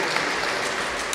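A short stretch of continuous crowd clapping at a Moscow Region championship as competitors are announced, even and dense, with no voices standing out.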